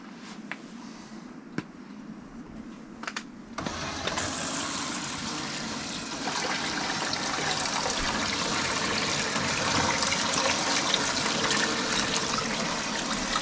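Water gushes steadily through gold prospecting equipment outdoors in cold weather, starting with a few clicks, then a loud, continuous rushing flow that builds slightly and stays strong.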